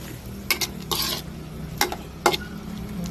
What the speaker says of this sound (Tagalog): Ngayon po, mix natin ulit.